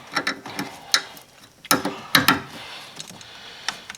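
Engine mount bolt on a 2010 Lincoln MKT being snugged down with a ratchet, a series of sharp metallic clicks and clanks in uneven bursts, close and alone.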